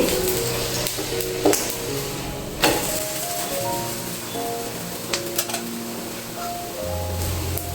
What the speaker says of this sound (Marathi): आता दुसऱ्या साईडने भाजून घ्यायचे